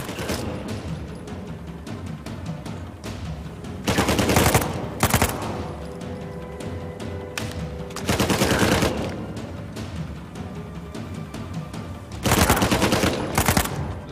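Gunfire in Uncharted 4, loud bursts of rapid automatic shots erupting in three separate volleys between quieter stretches of background game sound.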